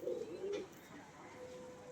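Pigeons cooing up close in a kept flock, a couple of soft throaty coos at the start followed by quieter murmuring.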